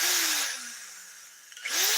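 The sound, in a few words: unscrewing screws while dismantling a CRT for recycling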